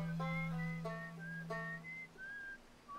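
Whistled melody picked up on the signalscope in the space exploration game Outer Wilds, a clear tune of rising and falling notes over a steady low hum, heard alone without talk.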